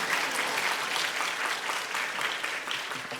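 Steady audience applause fills a church gathering during a sermon, a dense, even wash of many hands clapping at moderate volume with no talk over it.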